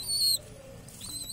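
Pigeons kept for pairing give short, soft calls and whistly tones, two brief bursts separated by a low murmur, close by with no voices.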